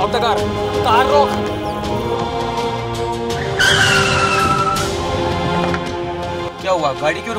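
Car braking hard and skidding to a stop on a highway at night, a loud tire squeal sweeping through the middle of the clip over engine noise and music.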